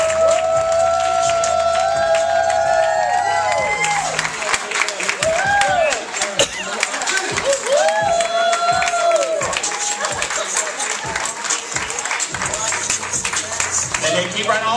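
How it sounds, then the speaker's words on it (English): A crowd claps and cheers for a child model at a fashion show; sustained applause and crowd noise run throughout, with scattered sharper claps and faint tonal music layered over the noise. "Clap a little bit louder for the baby."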